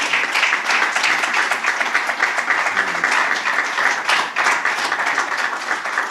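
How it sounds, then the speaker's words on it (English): An audience at the ICPAU Financial Reporting Awards breaks into a dense, sustained round of clapping that holds at an even, loud level throughout. "Let's appreciate them with a thunderous round of applause or a wave in any way possible."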